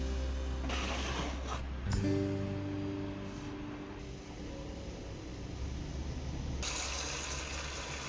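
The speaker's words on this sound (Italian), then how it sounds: "Metto dell'acqua con un po' di ammoniaca in una bacinella per iniziare a pulire." Water with a little ammonia is poured into a cleaning basin, a continuous gushing, splashing flow that runs steadily throughout.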